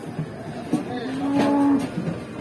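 A female cow being unloaded from a truck lets out a long, drawn moo in the middle, with clattering and thumps around it and low voices nearby.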